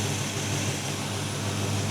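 A 1979 Chevy square-body truck engine idles near 750 rpm with timing at about 8 degrees, giving a steady, close, low hum and rumble under a broad wash of noise with no talk.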